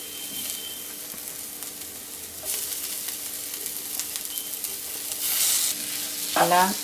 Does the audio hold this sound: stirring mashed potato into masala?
yes